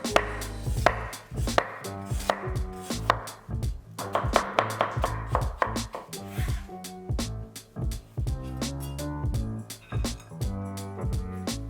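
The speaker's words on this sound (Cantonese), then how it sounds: "將蘿蔔去皮，然後切幼絲" Peeled radish being sliced into fine shreds with a knife on a cutting board, a rapid run of crisp, steady chopping strokes close up, with no one talking.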